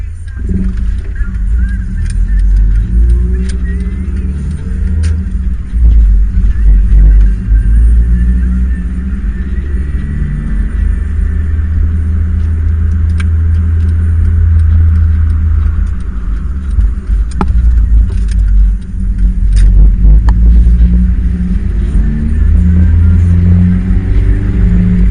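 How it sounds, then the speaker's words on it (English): A 1998 Honda Civic DX with a full exhaust install idles steadily, a close, loud low rumble with a few faint clicks over it. "I'm just trying to listen to the car right now."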